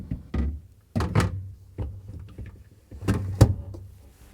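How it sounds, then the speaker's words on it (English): Shelves slid and set back into a Samsung refrigerator, giving a series of hollow plastic thunks and knocks spaced across a few seconds, close and moderately loud with no talking. "And let's put the shelves back in."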